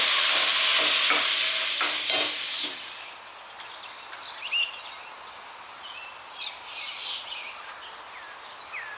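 Tomato, green chilli and curry leaves frying in oil for a fish curry, with a loud, bright sizzle at first that quickly fades to a gentle crackle and scattered pops.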